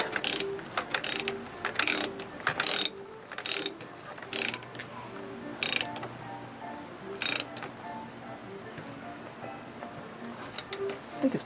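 Ratchet wrench clicking while tightening the battery terminal nut on a 2008 Honda Odyssey, short bursts of close, sharp ratcheting separated by pauses, with low talk in the background.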